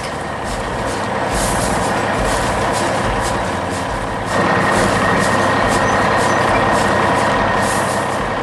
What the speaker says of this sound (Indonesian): Truk merah dan mesin konstruksi oranye terus bergerak di sini.